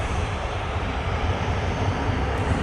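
A Ryanair airliner comes in to land at Manchester Airport, heard as a loud, continuous broadband engine roar that holds steady for the whole moment, with no talking.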